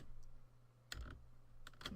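A few soft keystrokes on a computer keyboard come while a password is being typed. The clicks are quiet and close, with short clusters separated by pauses.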